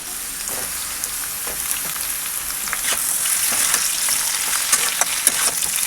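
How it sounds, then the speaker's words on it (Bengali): Steady crackling sizzle of eggplant frying in hot oil, with occasional stirring scrapes, close and continuous. "এরপরে আমি বেগুনগুলো ভেজে নেবো হালকা।"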